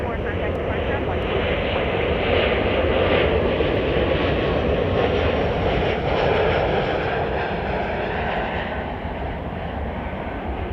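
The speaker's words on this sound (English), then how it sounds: "we've got a United Express E-Jet coming in from El Paso" A United Express E-Jet arriving from El Paso roars in at Chicago O'Hare with a broad, steady engine rumble and whoosh that stays loud and constant throughout.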